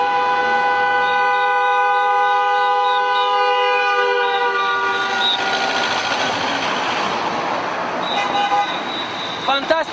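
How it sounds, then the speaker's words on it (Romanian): Car horns honk at a street protest against Dodon in Chișinău, a long sustained blare with several overlapping horns, later joined by more beeps and crowd noise toward the end. "Lumea mai și claxonează, mulțumim!"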